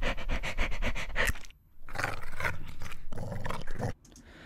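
Dogs for a World War I trench ambience, a close sequence of rapid panting and huffing breaths broken by rough growling bursts and a brief pause, loud and with no talk.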